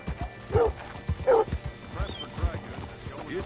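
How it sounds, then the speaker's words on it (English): Horse hooves clip-clop at a walk in Red Dead Redemption 2, with two short whinnies close by and soft talk in the background. "Get your horse up here."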